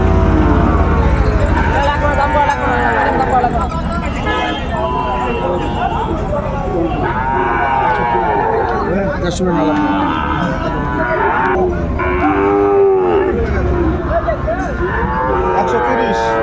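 Sahiwal cattle low and moo repeatedly at a livestock market, several loud calls overlapping with steady crowd chatter and people talking nearby.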